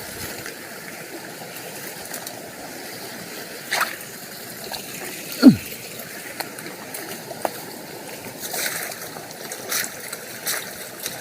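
Water brought down from the hills flowing along a traditional channel to irrigate a Konkan garden in summer, a faint steady trickle and gurgle with occasional small splashes and knocks, heard at a modest distance with no talking.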